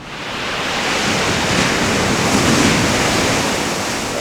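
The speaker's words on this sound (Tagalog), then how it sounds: "para makita ninyo kung gaano gaano kalalaki ang mga alon." Big ocean waves crash and roar continuously on a dangerous beach in Aurora, a loud, steady surf wash with wind noise, no talking.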